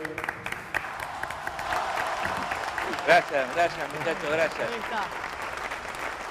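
A crowd applauds someone in a courtyard, a moderate, sustained clapping that carries under a voice speaking, with other people talking nearby.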